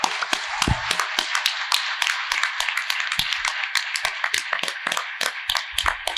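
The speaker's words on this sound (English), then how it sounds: "How about another round of applause for our candidates?" Applause for the candidates at a city candidates' forum, scattered individual claps from a small group, sharp and uneven, close to the microphone and continuing throughout.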